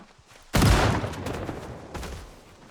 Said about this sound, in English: Every zombie in the forest heard the shotgun.